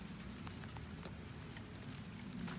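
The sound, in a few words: rain falling outdoors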